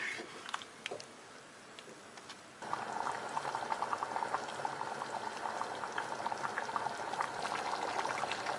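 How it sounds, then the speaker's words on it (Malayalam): Chicken biryani mixture with washed rice bubbling in an open pressure cooker, a soft simmer at first that swells into a steady, close, vigorous boil with dense popping bubbles. "ഇതെല്ലാം കൂടെ നന്നായിട്ട് തിളച്ചിട്ടുണ്ട്"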